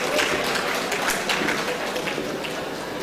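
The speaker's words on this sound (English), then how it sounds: "kindly give our presidential candidate another round of applause." Audience applause for a presidential candidate at a stakeholders' development forum, a steady broadband patter of clapping lasting throughout, fairly loud with a busy crowd texture.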